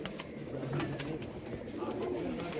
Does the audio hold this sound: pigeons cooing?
yes